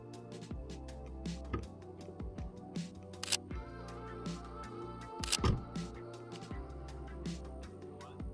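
Crisp camera shutter clicks fire repeatedly at irregular intervals while photographing a Toyota Supra, close and sharp, over a low background hum with some faint shuffling.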